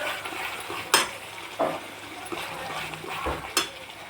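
Masala fries in a pan for mutton curry, a soft sizzle under a few sharp spatula scrapes and clinks against the pan; no speech.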